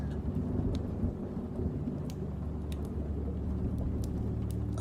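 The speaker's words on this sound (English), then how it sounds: "the door burst open with a gust of wind and rain." A stormy night with steady heavy rain and a dense rumbling wash of wind, thunder rolling low beneath it, continuous and fairly loud with no voices.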